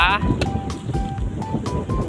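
Strong wind gusting across an open kite-flying field where a large eagle-shaped kite is flown, a steady low rumble buffeting the microphone beneath people talking.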